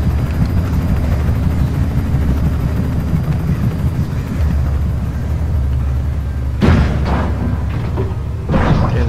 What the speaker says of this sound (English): There goes the helicopter.